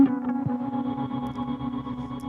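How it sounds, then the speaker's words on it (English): Electric guitar through a BOSS GT1000 with dual stereo delay, reverb and tremolo, a sustained pulsing note with echoing repeats, loud and alone. "you can hear the reverb and trem coming up the middle in stereo, but left and right you've got a dual delay going on"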